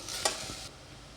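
Vegetables are sautéed briefly in a pan with a short hiss of sizzling and one sharp stirring scrape, quickly fading to a faint background.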